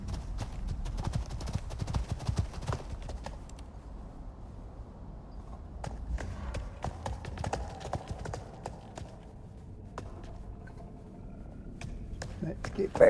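Horse hooves clip-clopping in a video game, a steady close rhythm of hoofbeats that fades briefly midway and returns, with someone talking over it.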